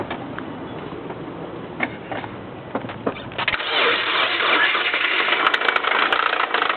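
2007 Subaru Impreza engine cranking and catching, then settling into a louder steady run with a rattly knock, recorded up close with a few faint background noises.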